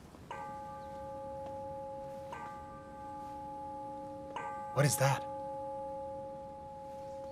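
A bell rings three slow, evenly spaced strikes in a hall, each a faint, sustained tone, calling stewards to collect their pay; a voice speaks briefly near the end.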